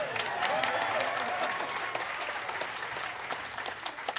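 Audience at a Dizzy Gillespie tribute event applauding a joke, a dense, steady burst of clapping from a large crowd that stays fairly even for several seconds with some voices mixed in.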